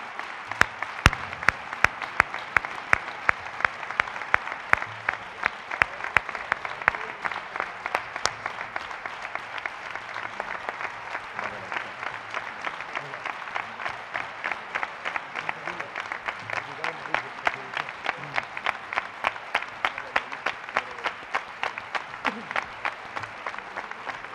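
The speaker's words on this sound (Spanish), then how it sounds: "A ellos le pido por favor que salgan y que les doy un aplauso" Rhythmic clapping from an audience at a Rocío festival proclamation event, a long sustained run of steady, evenly spaced beats that holds for over twenty seconds with light crowd murmur underneath.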